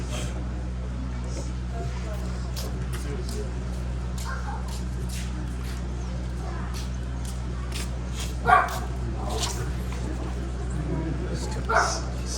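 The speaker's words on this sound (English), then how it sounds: "Sorry about my dogs." Dogs bark outdoors at a funeral gathering in Iosepa, Utah: a few scattered yips and barks, mostly faint, with a couple of sharper ones standing out over steady background hum and people talking.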